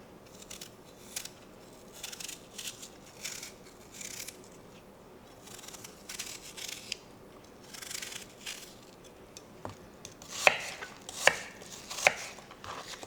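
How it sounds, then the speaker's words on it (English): Apples being peeled and cut into chunks by hand for homemade apple butter, with soft intermittent knife scrapes and cuts and a few sharper chopping taps near the end, fairly quiet and close. "You just cut them in whatever size chunks"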